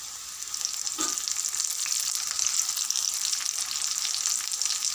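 Onions and curry leaves frying in a pan give a steady, close, bright sizzling hiss that runs unbroken from start to finish, with no voices.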